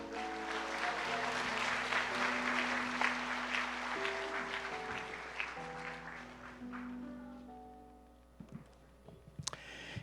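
Congregation applause at a Sunday all-generations worship service at Haneul Garden Church in Daejeon, a dense clapping wash over sustained organ or keyboard chords, fading toward the end with a few scattered claps.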